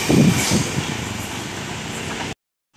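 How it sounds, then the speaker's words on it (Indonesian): An empty cement freight train, K2712, runs straight through a level crossing in Indonesia, giving a loud, close, steady rumble of wheels and cars that cuts off abruptly. "kereta api Semen kosongan nomor K2712 melintas langsung"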